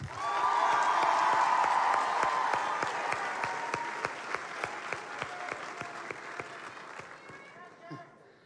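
Loud, sustained applause from a large crowd at a state FFA convention session, with sharp individual claps throughout, gradually thinning out toward the end.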